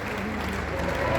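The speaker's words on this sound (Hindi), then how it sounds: "सदन से अनुरोध है कि तालियों की जोरदार गड़गड़ाहट के साथ आप भी इस स्वागत में जुड़े।" An audience claps together to welcome guests at a public ceremony in India, a steady, fairly loud wash of applause filling the short moment with no voices on top.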